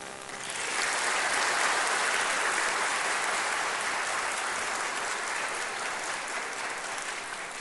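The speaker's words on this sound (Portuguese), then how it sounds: "Vamos dar uma salva de palmas para o nosso propagandista representante?" Audience applause at a ceremony marking the day and 50th anniversary of pharmaceutical sales representatives, a dense, steady clapping that swells in within the first second and holds loud and even to the end.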